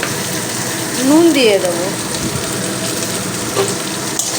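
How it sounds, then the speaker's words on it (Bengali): Beans, carrots and potatoes frying together in oil in a pan for a winter-vegetable paneer dish. A steady background sizzle runs throughout, with a brief whistling tone and a voice speaking over it. "ওই তেলের মধ্যে বিনস গাজর আর আলু একই সঙ্গে একটু ভাজা ভাজা করে নেব"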